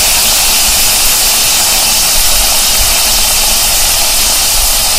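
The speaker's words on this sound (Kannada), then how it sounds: "ಈಗ ಬೇಯಿಸಿದ ತರಕಾರಿ ಸೇರಿಸ್ತಾ ಇದ್ದೀನಿ ನಾನು" Cooked carrots, beans and peas hit hot oil in a pan, producing a loud, dense, continuous hissing sizzle that stays constant and close throughout with no talk.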